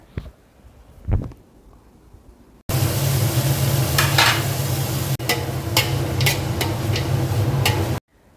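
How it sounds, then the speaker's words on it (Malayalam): Chopped onions hit hot oil after a quiet start and erupt into a loud, continuous sizzle, with brief stirring clicks over the steady crackle until it cuts off near the end. "ഓയിൽ ഒഴിച്ചു കൊടുത്തതിന് ശേഷം ഞാനതിലേക്ക് നമ്മൾ അരിഞ്ഞു വെച്ച സവാള ഇട്ട് കൊടുക്കുകയാണ്"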